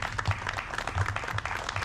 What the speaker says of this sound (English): if we can give all those people a round of applause, that would be great